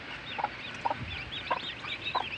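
A mother hen clucks over a freshly hatched brood of chicks in a small backyard setting, soft repeated clucks and chick peeps at steady intervals, near and fairly quiet.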